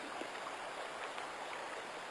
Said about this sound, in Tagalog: Tumatabi po ako ng ilog.